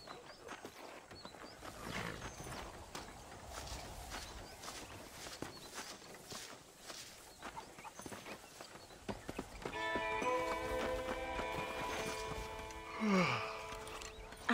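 A horse's hooves clop in a steady rhythm as it is ridden in a Western-themed video game, fairly quiet at first, with a tonal musical layer joining in partway through.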